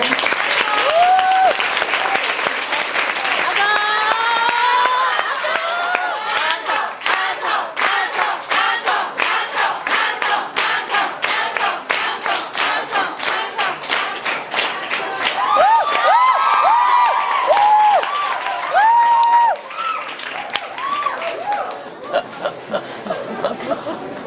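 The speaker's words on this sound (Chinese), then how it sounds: "热烈的掌声。" An audience at a promotional performance at a Taichung department store breaks into sustained, dense clapping and cheering, loud and close, gradually thinning toward the end.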